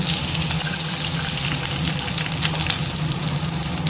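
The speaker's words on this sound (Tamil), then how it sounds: "எண்ணெய் காஞ்சிருச்சு ஒரு அரை துண்டு இஞ்சியை கட் பண்ணி வச்சுருக்கேன் அதையும் சேர்த்துப்போம் பூண்டு" Ginger and garlic fry in hot oil in a kadai for paneer butter masala, giving a steady, dense sizzling hiss that runs evenly throughout with no voices.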